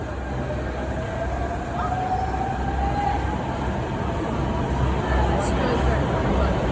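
A Delhi Metro train at a crowded station, a steady loud rumble with a brief rising wheel squeal, under a constant babble of the crowd.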